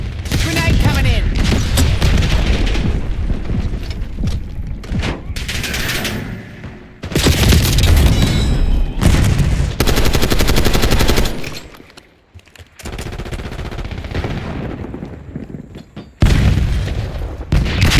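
A grenade explosion and rapid gunfire ring out in the Robocop Rogue City video game, loud clustered bursts of automatic fire and booms separated by brief lulls, with voices speaking between the shots.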